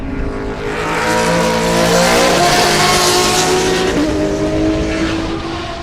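Race cars of different classes, including a Camaro, roar past on the Sebring racetrack during a late lap, a loud sustained engine drone that swells and fades as the field goes by, with a faint tire squeal.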